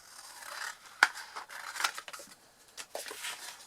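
Scissors cut through material while making an Easter chocolate treat, producing close, quiet snips and scratchy rustles in an irregular series, with one sharper snip standing out, and no talking.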